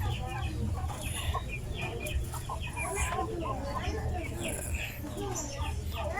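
Shamo cross Asil chickens cluck repeatedly at close range, a busy overlapping chatter of short clucks and calls from several birds throughout.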